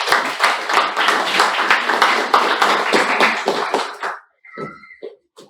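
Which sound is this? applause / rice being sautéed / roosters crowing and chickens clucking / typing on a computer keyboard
applause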